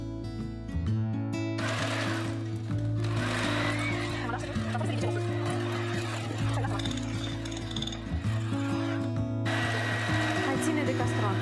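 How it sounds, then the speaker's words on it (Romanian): An electric hand mixer whirs steadily as it beats mascarpone with powdered sugar and cream in a bowl, its loud, continuous motor drone lasting throughout with small shifts in pitch. "Într-un bol, mixăm mascarpone împreună cu zahărul pudră, după care adăugăm frișcă puțin câte puțin"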